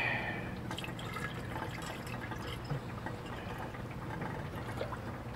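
Distilled water pours steadily into a beaker holding copper-refining anode slimes, a continuous close-up trickling and splashing that runs unbroken from start to finish.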